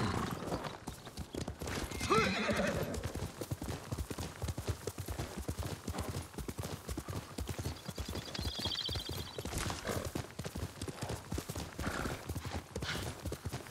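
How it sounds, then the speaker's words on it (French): A horse in the video game Ghost of Tsushima answers a call, its hooves clip-clopping at a steady gallop throughout, with a whinny near the start. Faint speech sits beneath the hoofbeats. "on va appeler le cheval."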